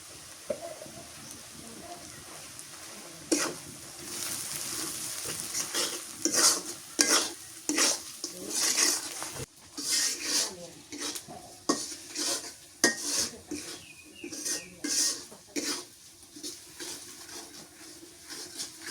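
Spices stirred with turmeric and salt in a pan, a spoon scraping and clinking against the metal in irregular bursts over a low, steady sizzle, close and fairly loud, with no talking.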